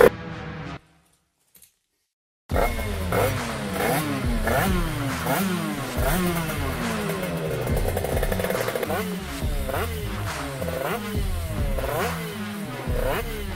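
80cc Grand Prix racing motorcycles on Honda RS chassis scream past during free practice at a race in Spain, a loud, continuous buzz of high-revving two-strokes rising and falling in pitch as bikes pass one after another.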